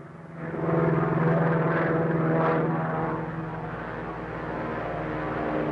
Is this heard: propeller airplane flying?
yes